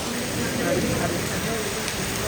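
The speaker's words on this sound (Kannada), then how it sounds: "ಎಷ್ಟು ಮಳೆ ಜೋರ್ ಮಳೆ ಗೊತ್ತಾ ನೋಡಿ" Heavy rain pours steadily, a dense continuous hiss and patter with no breaks, loud and close.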